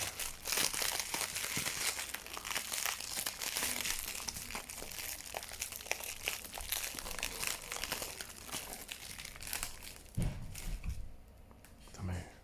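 Crinkly packaging being unwrapped from a mineral mystery box, loud continuous crumpling and tearing of paper or plastic close to the mic, easing off near the end with a brief thump.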